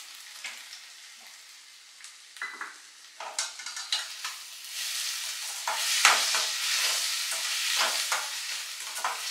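Pineapple and orange pieces cooking with sugar in a pan and being stirred, with soft sizzling and irregular scraping of a spoon against the pan that grows busier and louder.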